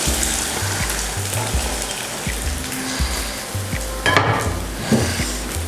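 Raw taro roots frying in heated oil, a loud, continuous close sizzle with crackling spatters and occasional stirring scrapes throughout.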